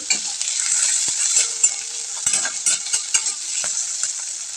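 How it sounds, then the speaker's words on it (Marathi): Smashed potatoes with curry leaves sizzle steadily in hot oil in a pan, with scattered scraping stir strokes and light clinks on top of the continuous frying hiss. "आणि स्मॅश करून घेतलेले बटाटे आणि छान असं परतून घ्यायचे तेलामध्ये"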